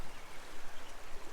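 A rain-swollen creek at Seven Mile Creek County Park in Minnesota rushes as a full torrent after days of rain, making a steady, dense broadband wash of water noise with no pauses.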